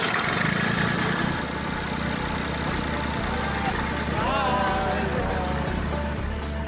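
A classic tractor engine runs at a steady, loud idle close by, a constant rumbling drone with a voice briefly heard over it.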